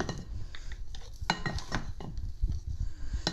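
A spoon folds fromage blanc mousse cake batter in a bowl, giving soft wet scrapes and light clinks against the sides in an uneven rhythm, close and alone.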